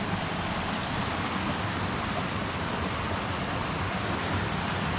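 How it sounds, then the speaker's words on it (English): A small mountain river rushing beside a hiking trail in the Alpine Lakes Wilderness, a steady, dense broadband roar of water heard close and unbroken, with no voices. "here's the little river making all that noise"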